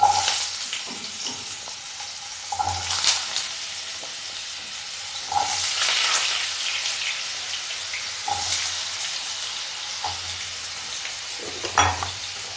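Three medium potatoes, cut into pieces, frying in hot oil in a wok on a gas stove: a steady close sizzle with periodic louder bursts as the pieces are stirred, no talking.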